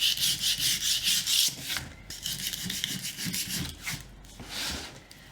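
Steady back-and-forth scraping of sandpaper on a sanding block over painted wood, rhythmic hand strokes with brief pauses, close and fairly loud, no talking.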